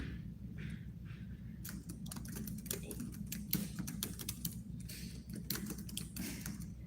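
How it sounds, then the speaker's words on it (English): Fingers type on a computer keyboard close by, a fast irregular run of clicking keystrokes starting after a brief pause and continuing steadily over a low background hum. "Or should I say I'm still typing? I'm still typing."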